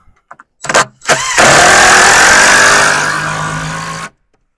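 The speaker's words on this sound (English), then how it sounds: "Get your screw started and make sure everything about even." A power driver sinks a screw into wooden horse fence boards: a few short taps and brief revs, then one loud, close, steady whine of about three seconds that cuts off sharply.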